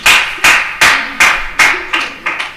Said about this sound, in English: As you applaud yourself,